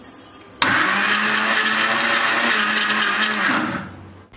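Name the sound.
mixer grinder kneading dough for puri and chapati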